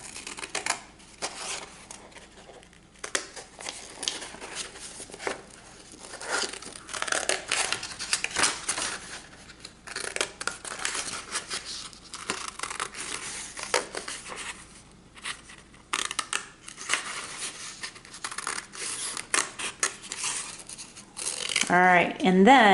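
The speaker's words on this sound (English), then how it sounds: "Now I'm going to take my scissors." Scissors snip through folded paper to cut out a drawn bug shape, giving a run of close, crisp cutting crunches and paper rustles that repeat irregularly over about twenty seconds, with no talking.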